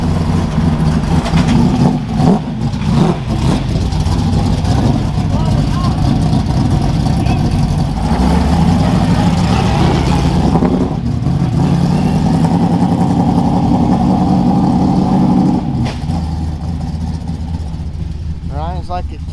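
A modified car's engine revs hard and rumbles as it pulls away, loud and sustained. People talk over it.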